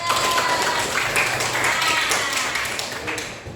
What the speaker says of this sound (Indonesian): Tepuk tangan lagi buat anak hebat